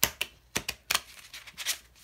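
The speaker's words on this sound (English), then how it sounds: "Let's see if we can do a shuffle at all." Several quick papery riffles and flicks of cards being shuffled, in uneven bursts close to the microphone.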